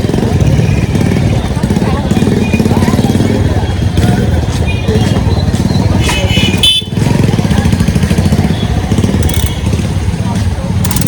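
A motorcycle engine runs loud and close for the whole stretch, a continuous throbbing roar that briefly dips once, with people talking over it.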